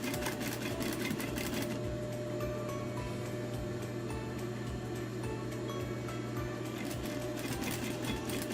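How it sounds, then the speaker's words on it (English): Sewing machine stitching along the edge of fabric for a prairie point border, a fast continuous mechanical whir and rattle running steadily at close range. "Just stitch on one side as close as you possibly can"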